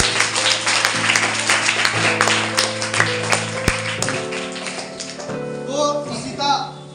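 Loud, dense applause for Ishita at a school project event fills the whole stretch, over steady sustained musical tones and scattered sharp taps, with voices surfacing near the end.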